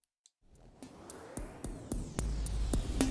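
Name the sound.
reverb size modulated by an LFO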